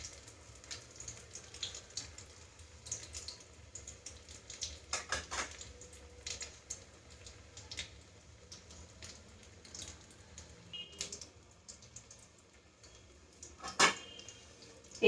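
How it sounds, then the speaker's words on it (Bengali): Fish cutlets frying over low heat in a pan, a quiet faint sizzle under scattered clinks of a spatula and pan, with a sharp clatter near the end as cutlets are turned. "এবার আমি উল্টিয়ে দেবো, অপর দিকটা ভেজে নেব"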